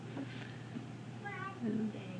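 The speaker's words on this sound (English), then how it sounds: "No, there's a cat." A gray tabby cat meows a couple of times indoors, fairly faint, while people talk nearby.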